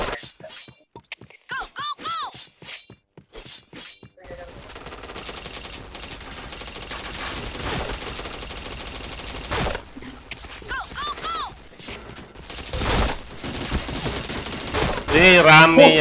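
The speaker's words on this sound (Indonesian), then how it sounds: "Kiri kanan oke nembak, aku bingung mau nembak yang mana aku" Gunfire in a video game shootout crackles in bursts and rapid volleys, with single shots early and denser fire later, while players talk over the action.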